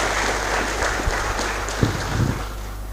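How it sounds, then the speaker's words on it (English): Applause from an audience at a college of engineering freshmen orientation, a steady, fairly loud wash of clapping lasting the whole stretch with a few sharper claps standing out. "let's give him another round of applause"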